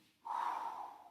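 A single forceful exhale through the nose and mouth during a dynamic core plank exercise, a short close breathy huff lasting about a second that fades gradually.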